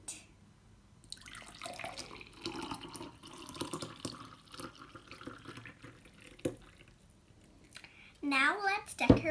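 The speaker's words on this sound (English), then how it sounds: "Let's pour it." Homemade Oreo milkshake poured from a container into a cup: soft, faint, liquid gurgling and splashing that runs for several seconds, followed at the end by a short burst of voice.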